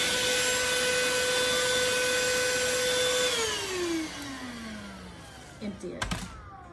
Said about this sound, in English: we're going to vacuum up the mounting hardware